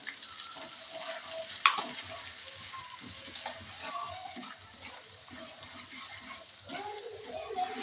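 Ginger and coarsely ground spice masala sauté for sweet amla pickle, a faint low sizzle with occasional stirring scrapes and one sharp clink, heard close and quiet.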